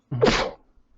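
A single sharp sneeze, close and fairly loud, with a quick voiced intake before a broad burst that fades within half a second.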